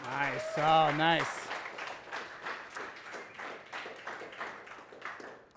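Audience applause at a young leaders series event: after a few loud whoops and shouts, a scattered, moderately quiet patter of clapping continues to the end.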